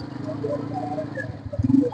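Low, repeated cooing of pigeons at a pigeon market in Lahore, soft and close, with the calls swelling louder near the end over faint background noise.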